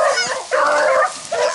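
Beagles bay and yelp in bursts while running rabbits through a block of woods, loud howling cries in two or three drawn-out calls with brief gaps between.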